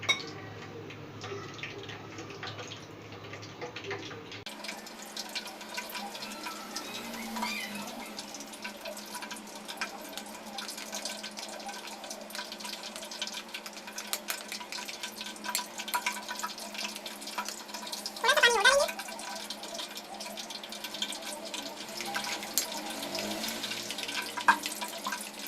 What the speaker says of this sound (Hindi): मिक्स करने के बाद इसमें थोड़ा थोड़ा करके पानी डालेंगे।